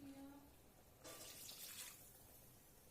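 Water is poured into a pan of potato and okra curry, a soft splashing stream lasting about a second in an otherwise very quiet kitchen, faint and close.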